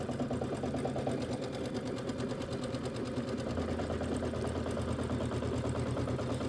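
A sewing machine stitches quilt borders in a steady, fast mechanical chatter that runs unbroken and moderately quiet throughout.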